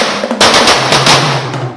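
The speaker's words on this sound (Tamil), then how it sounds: "குடும்ப உறுப்பினர்களுடன் பட்டாசு வெடித்து புத்தாடை உடுத்தி இனிப்பு பலகாரங்கள் பல்வேறு உணவு வகைகளுடன் புதுமண தம்பதிகள் தீபாவளியை வரவேற்றனர்." Firecrackers bursting in rapid crackling volleys during Diwali celebrations in Coimbatore, loud and close, a dense string of sharp pops running continuously through the whole moment.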